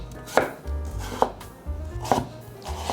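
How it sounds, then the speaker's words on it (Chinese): Knife slicing peeled sweet potato on a cutting board: about four crisp, close chops spaced roughly a second apart, with low thuds between them and no talking. "把地瓜切片"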